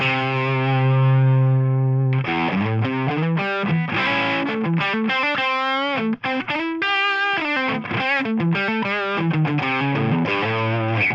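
An electric guitar runs through a Tonex pedal with the depth control changed, first a long sustained distorted chord, then a busy run of saturated, heavily processed notes and riffs, loud and unaccompanied.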